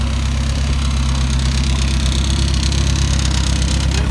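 A Mercedes 190SL engine idles steadily at operating temperature, a loud, close, even low rumble with a fine regular pulse and no change in pace.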